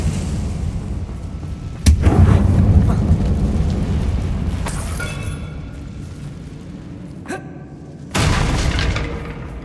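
Confringo explosion spells burst in the Hogwarts Legacy video game in a dark mine, three sharp loud blasts spaced several seconds apart, each followed by a crackling, rumbling decay.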